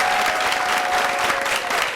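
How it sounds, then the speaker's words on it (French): A studio audience on a live French talk show claps to welcome an arriving guest, producing dense, even applause that holds steady for the whole moment. "Acclamation pour l'accueillir."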